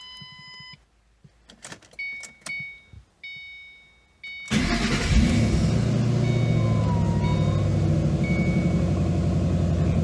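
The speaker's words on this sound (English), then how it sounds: "All right, so the engine's running." A Shelby Cobra replica's engine turns over and fires up with the clutch pressed in, after a few short clicks and electronic tones, then settles into a loud, steady idle.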